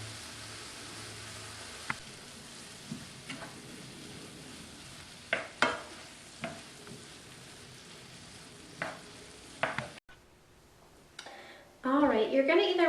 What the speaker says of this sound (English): At that point we're going to add in our garlic, and then we're just going to saute it for a few more minutes